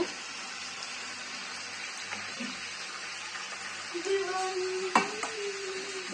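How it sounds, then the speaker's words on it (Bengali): Water pours into a pan of fried, oil-separated masala for a Sundari crab curry, giving a soft splashing hiss over a low kitchen hum, with a sharp clink near the end. "এবার আমি জল দিয়ে দেব"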